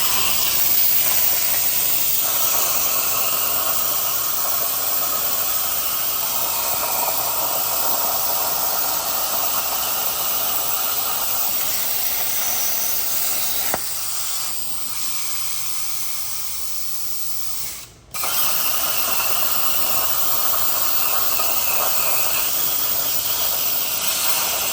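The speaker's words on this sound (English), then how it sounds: "So let's get some pieces cut." Metal plates are cut to fit in a workshop, giving a loud, steady, hissing roar that runs unbroken for most of the time, dips briefly, then cuts off abruptly before resuming.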